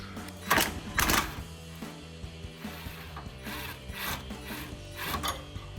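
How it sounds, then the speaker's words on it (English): A 13 mm bolt is taken off while a rear bumper is installed on a 2020-2023 Chevrolet Silverado 2500, with ratcheting mechanical bursts and clicks in short, close spurts separated by quieter pauses. "for the removal of this bolt, I'll be using the impact gun with a size 13 millimeter"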